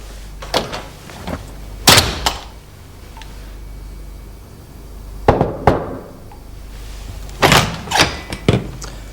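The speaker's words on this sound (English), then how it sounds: "Could you swing the door too" A heavy lead-lined walk-in fridge door swings shut several times, giving loud, sharp thuds and clunks in clusters with quiet pauses between them.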